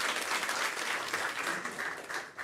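A church congregation of deacons claps together in a brief burst of steady applause, moderately close and even.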